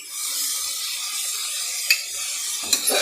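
Ginger garlic paste fries with tomato in a pan for horsegram biryani. A steady close sizzle carries throughout, with a couple of brief clinks of a utensil against the pan near the end.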